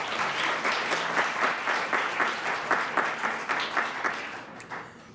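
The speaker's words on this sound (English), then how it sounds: "All right, one more hand clap for Cameron." A round of audience applause at a scholarship reception, many hands clapping together in a full, steady burst that holds for several seconds before tapering off near the end.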